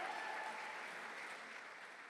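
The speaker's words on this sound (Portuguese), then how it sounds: "Mais um aplauso para Jesus." Faint, distant audience applause fills a lecture hall as a pastor is welcomed on stage, a steady patter of clapping that slowly fades.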